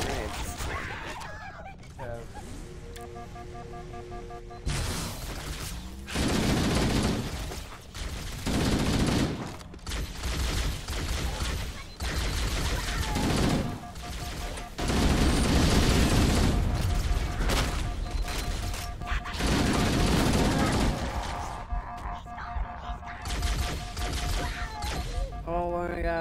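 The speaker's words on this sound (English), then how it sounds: "I throw grenades." Video game combat rattles with bursts of rapid gunfire and heavy grenade explosions in loud, repeated waves, separated by brief quieter gaps, while players' voices come and go over the noise.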